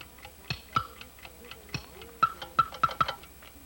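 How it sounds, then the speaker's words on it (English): An alarm clock ticks loudly and steadily at close range in a quiet room, with a series of sharp, evenly spaced clicks and no voices. "His alarm clock is ticking too loudly."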